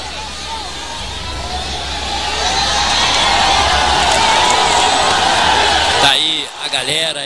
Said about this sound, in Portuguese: a torcida de Cabo Verde fazendo a festa aqui na arquibancada